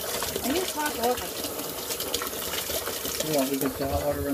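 Water runs steadily from a tap, a constant rushing hiss, while people talk over it.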